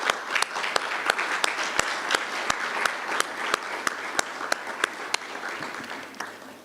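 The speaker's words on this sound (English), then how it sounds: "Let's continue clapping." Audience at a City Power energy indaba applauding student beneficiaries, a soft bed of crowd clapping punctuated by sharp, regularly spaced loud claps from someone close by.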